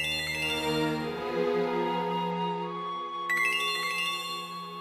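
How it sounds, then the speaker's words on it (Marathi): A mobile phone rings with a melodic, repeating ringtone, moderately loud and continuous, with no talking over it. "मला हा फोन घ्यावा लागेल."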